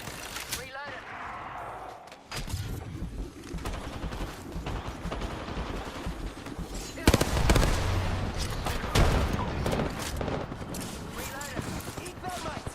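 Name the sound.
gunfire in a video game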